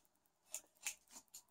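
Scissors snip through fabric for a DIY camera microphone muffler, giving three or four short, crisp cuts spaced about a third of a second apart, close and fairly quiet, with no talking.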